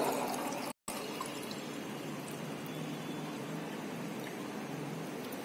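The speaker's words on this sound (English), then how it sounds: "take some amount of water in the beaker" Water pours steadily into a beaker, a continuous soft splashing rush that is briefly cut off once near the start, then runs on evenly and quietly.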